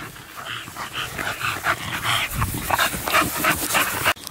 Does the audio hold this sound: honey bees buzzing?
no